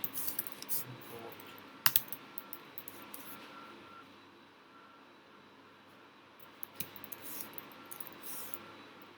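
Quiet bursts of computer keyboard typing while Python code is entered, with clustered key clicks near the start and again toward the end, separated by a near-silent pause and a sharp isolated click.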